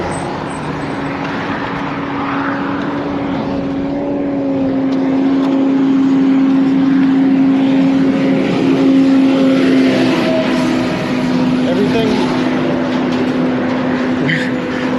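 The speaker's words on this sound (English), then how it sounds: "I have about 1 million trucks driving by, a highway underneath us." Heavy trucks pass on a highway below, merging into a loud, continuous roar with a steady engine drone that swells slightly midway, heard up close and unbroken.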